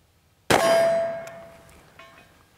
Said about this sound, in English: Let's take a few shots and see how it works.